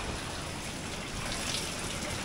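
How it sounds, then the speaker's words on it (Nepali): Hot spring water at a bathing spot beside the Budhi Gandaki river in Gorkha, splashing and gushing steadily and close by as a hand touches it, a continuous watery wash with no talk. "एकताल पानी छोएर पनि हेरौँ कस्तो रहेछ"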